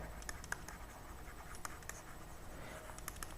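Pen writing out a maths problem about the volume of a solid made of a cone and a hemisphere, heard as a close, faint, steady scratching with small intermittent strokes and no talking.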